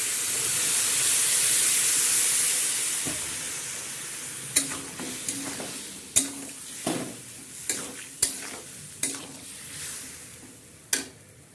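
Water added to sautéed vegetables for sambar dal, a loud burst of hissing steam that gradually dies down, followed by a series of sharp spoon knocks and stirring scrapes against the pot.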